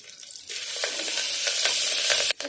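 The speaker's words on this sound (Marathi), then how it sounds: "तेल गरम झालं इथे थोडी मी राई टाकते आणि थोडं जिरं टाकते तसेच इथे कढीपत्ता हा टाकून घेऊया" Mustard seeds, cumin and curry leaves sputter and crackle in hot oil for stuffed okra, a loud steady sizzle with quick pops starting just after a brief quieter moment and cutting off near the end.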